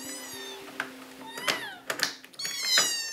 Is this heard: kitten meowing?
yes